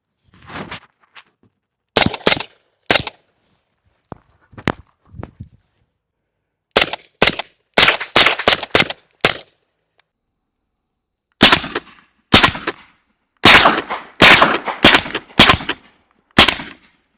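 A 9mm pistol-caliber carbine fitted with a Huxwrx Rad 9 silencer fires outdoors, sharp muffled shots arriving singly and in quick clusters of three to five with pauses between, fairly loud and close.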